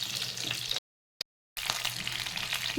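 Pointed gourd (parval) frying in a pan, giving a close, steady sizzle that drops out briefly in the middle and then resumes.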